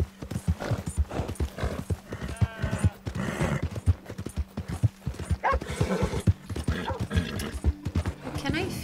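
Horse hooves clip-clopping in Red Dead Redemption, a steady rhythmic trot close up, with whinnies, game sounds and a person talking over it throughout.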